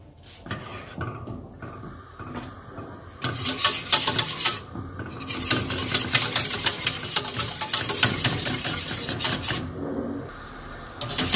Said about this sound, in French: Donc je remue de temps en temps.